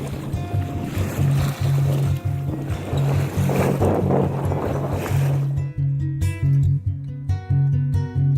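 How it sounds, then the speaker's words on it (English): Sailboat under way between two islands on open water, with a steady rush of wind and waves washing against the hull throughout; the water noise drops away in the final seconds as music takes over. "We're just gonna sail here between these two islands."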